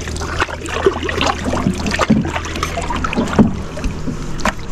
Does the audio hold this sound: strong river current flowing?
yes